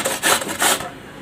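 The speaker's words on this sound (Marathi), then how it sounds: "तर यांना आता किसून घ्यायचं, वरची साल काढून घ्यायची स्वच्छ धुवून आणि मग यांना असं किस करून घ्यायचं" Raw green mangoes, peeled and washed, scraped against a grater for pickle: three quick rasping strokes in a row, close and fairly loud, with no talking.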